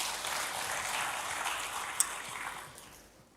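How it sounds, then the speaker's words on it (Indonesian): A church congregation clapping, heard as a soft, fairly distant wash of applause that holds steady and then fades away over a few seconds. "Yang mengerti berikan tepuk tangan bagi Tuhan."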